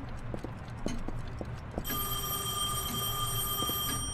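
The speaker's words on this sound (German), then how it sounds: "Telefon." Telephone ringing in the video game Heavy Rain, a steady electronic ring that starts partway through and holds loud and continuous over room noise and faint footsteps.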